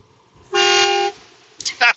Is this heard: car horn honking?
yes